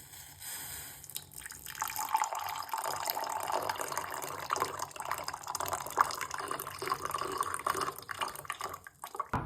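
Hot water is poured steadily over instant coffee grounds for several seconds, a continuous bubbling, splashing trickle up close that rises and wavers before a brief clatter at the end.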